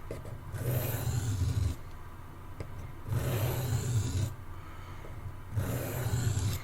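A Marbles whittling knife blade being sharpened on a diamond stone, three long, rhythmic rasping strokes with short pauses between them, close up and fairly loud, with no voices.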